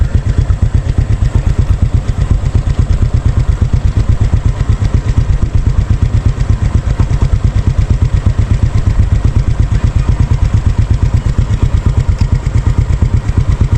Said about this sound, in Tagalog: Motor-motor muna tayo dito.